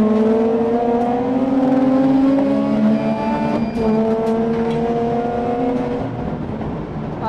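A race car circuits a track with oil on the surface, its engine holding a steady loud drone with shifting pitch lines as it runs through the lap, another car close alongside.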